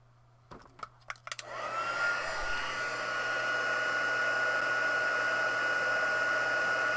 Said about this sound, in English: then we'll heat set that